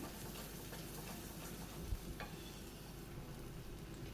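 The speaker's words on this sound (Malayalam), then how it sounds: "ഇളക്കി മിക്സ് ചെയ്ത് ഈ മസാല നല്ലതുപോലെ വഴറ്റി കൊണ്ടുവരാം" Masala for an Afghani egg curry sizzles and is stirred in a pan, a faint steady frying hiss with soft scraping and clinking of a spoon against the pan.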